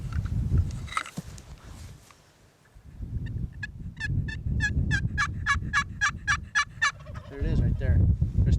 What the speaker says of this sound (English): A turkey just gobbled over there.